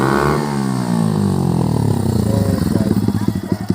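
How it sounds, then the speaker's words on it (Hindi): A Bajaj Pulsar NS200 motorcycle with its exhaust removed revs hard and loud nearby, its raw note rising and falling, then breaking into choppy, rapid pops as the throttle eases. "क्या एग्जॉस्ट नोट है भाई"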